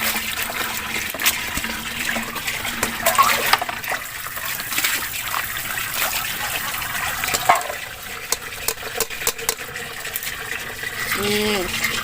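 Vegetables are washed in running water, a steady wet splashing and trickling with a gush of tap flow, all fairly close and continuous, while a voice speaks now and then.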